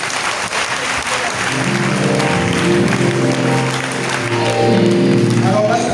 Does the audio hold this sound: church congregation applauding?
yes